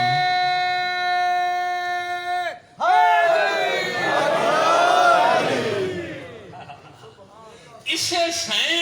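A religious gathering raises loud group chants of devotional slogans, voices swelling together after a sustained tone, close and dense, with a brief pause before shouting resumes.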